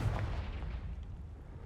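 A Confringo blasting spell exploding in Hogwarts Legacy, a heavy low boom that rolls and rumbles for over a second, loud and without talk.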